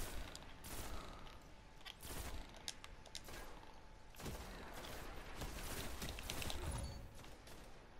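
Evergreen pulse rifle in Destiny Crucible multiplayer firing repeated quick bursts, steady rhythmic volleys over busy game ambience, faint overall.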